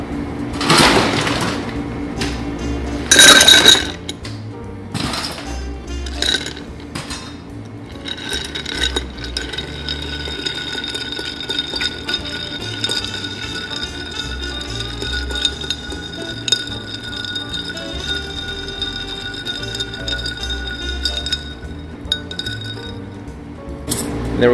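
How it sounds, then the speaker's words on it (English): A bar spoon stirs a Manhattan cocktail in a mixing glass, giving a steady run of soft clinks and swirling ice rattles after a few louder glassy knocks at the start, without speech. "We're gonna grab our bar spoon"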